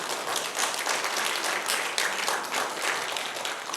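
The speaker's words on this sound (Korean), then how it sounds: "박수 치면 안 될까?" Church congregation applauding during a revival service, sustained mid-level clapping that fills the whole stretch evenly, heard from within the room without voices on top.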